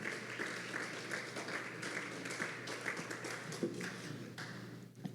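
A church congregation claps together in sustained applause, a dense even patter of many hands filling the room at moderate volume.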